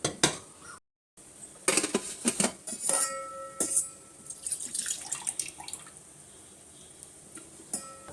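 Water pours and splashes out of a pot as boiled drumsticks are drained, with metal clinks and gurgling trickles tapering off into drips.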